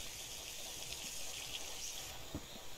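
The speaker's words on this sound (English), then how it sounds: "Come on, get all the water out." Water drains out of a car engine in The Long Drive as a faint, steady hissing trickle that runs throughout, with a few soft knocks near the end.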